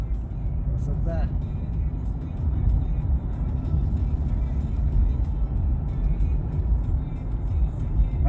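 A 2015 Toyota Prius Alpha with fault code P0AA6 is driving, heard from inside as a constant low road-and-engine rumble, with muffled voices in the cabin underneath.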